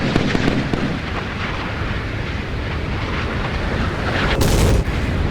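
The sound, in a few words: missile explosions in naval battle, Sea Power video game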